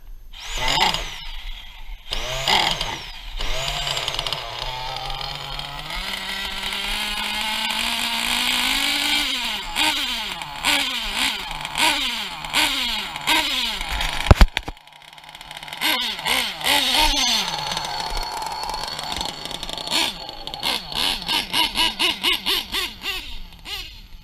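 Novarossi RCR .25 nitro engine in an RC car on an MTC chassis warming up, with repeated sharp revving rises and falls, a sputtering idle, and a steady high rev near the end.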